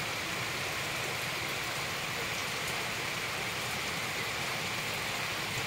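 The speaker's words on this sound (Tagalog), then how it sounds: "Sobrang lakas ng ulan ngayon dito sa amin." Heavy rain pours down outdoors in a dense, unbroken roar of rushing water that stays loud and even throughout, with no voices.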